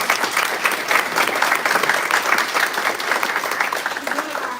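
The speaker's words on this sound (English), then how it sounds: "give him a round of applause" A presentation audience breaks into a round of applause, dense and sustained clapping from many hands filling the room, loud and continuous with faint crowd murmur beneath.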